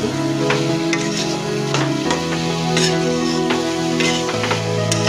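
Sweet, cardamom-flavoured modak filling is stirred and fried in a pan for fried wheat-flour modak, with soft scraping and light sizzling clicks running steadily under loud background music.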